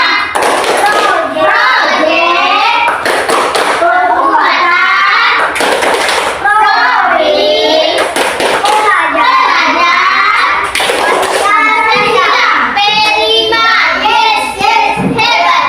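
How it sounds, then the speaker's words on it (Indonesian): Schoolchildren in a primary classroom perform a rhythmic clapping chant, loud bursts of hand claps punctuating their chanting voices in a repeating pattern, close and energetic throughout. "Tapi sekarang kita tepuk P5 dulu ya"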